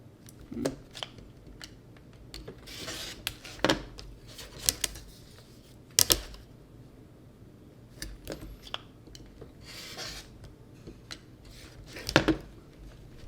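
Quilt fabric trimmed along solid lines, probably with a rotary cutter or scissors on a cutting mat: scattered crisp snips, scrapes and clicks at irregular intervals, close and fairly quiet, with soft handling rustles between cuts and no talking.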